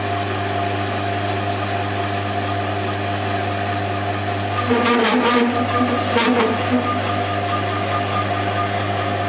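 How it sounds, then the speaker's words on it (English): A steady, grinding hum of a hole saw drilling slowly through lubricated 8mm steel runs throughout over constant machine drone, with a brief rougher burst midway; no talking. "8mm steel with a hole saw, keeping it well lubricated and running with a really slow drill speed"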